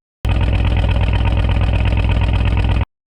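A Volvo S60R engine with a burnt valve idles loud and close in a steady, slightly uneven rhythmic chug, starting and stopping abruptly after about two and a half seconds, with no voices.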